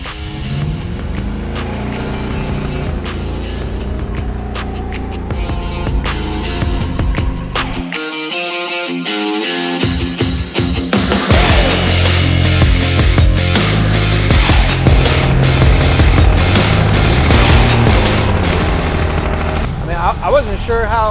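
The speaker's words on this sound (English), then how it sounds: "Keys, let's go take it for a drive." Big wheel drag car with small tires being driven, its engine roaring loud and steady close by, rising through gear changes under a constant rush of road and wind noise, with people talking over it.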